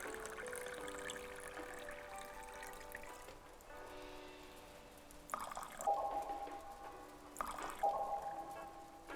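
Wine pouring into a glass in the bartending game Bartender Hustle, a soft trickling fill with drips under steady tonal game music, brief clinks and splashes near the end.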